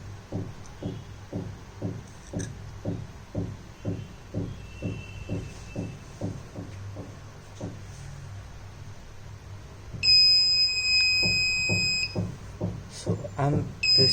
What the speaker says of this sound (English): so you can see the object detected and buzzer gets on.